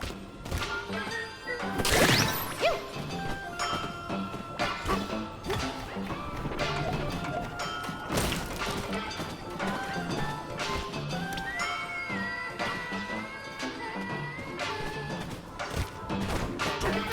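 Donkey Kong pounds and smashes through layers of dirt in Donkey Kong Bananza, a busy run of crunching impacts with a big crash near the start, all set against constant game music and effects.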